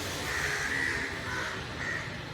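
A crow caws repeatedly in harsh, drawn-out calls, fairly close, over a steady background hiss.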